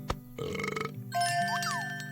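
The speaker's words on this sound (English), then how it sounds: "Oh, it wants to be burped." A baby axolotl burping in the game AK-xolotl, a short cartoonish burp followed by a bright sparkling chime with rising and falling tones.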